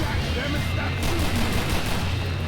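Rapid pistol gunfire from a pair of modded handguns in Left 4 Dead 2 cracks through a dense, busy wash of game noise, with shots crowding together and a low rumble running underneath.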